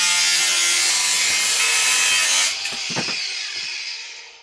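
Power tool cutting through a part during a Honda C90 motorcycle restoration, a loud steady grinding whine that cuts out after a few seconds, followed by a few knocks and handling sounds.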